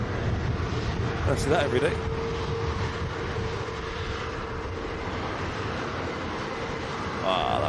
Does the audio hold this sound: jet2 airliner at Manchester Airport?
yes